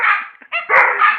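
A dog howls and barks in reaction to a Dutch air raid siren, giving a short run of loud, close yelps and a rising howl-like cry over about a second.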